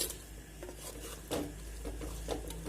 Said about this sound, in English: Let us mix this well.